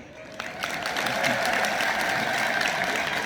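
A congregation applauding after a sermon, clapping swelling from a few hands to a sustained, dense round of applause in a room.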